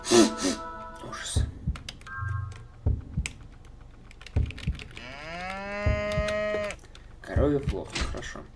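A cow moos in the video game Toilet in Wonderland, one long drawn-out low call in the middle, amid keyboard typing clicks and short game sound effects.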